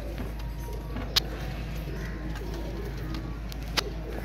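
Pigeons kept as fancy breeding birds coo softly in a loft, a steady low murmur with two brief sharp knocks, set against constant background noise.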